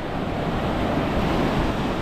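Ocean surf washing onto a beach lined with sandbags on Phu Quoc island, Vietnam, a steady loud rush of rough water with wind buffeting the microphone throughout, no voices.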